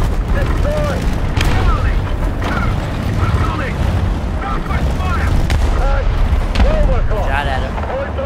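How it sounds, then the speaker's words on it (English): Heavy booms and rumbling blasts from an artillery strike in the War Thunder tank battle game, with sharp cracks and mechanical clatter over a constant low roar and scattered voices. "Artillery strike."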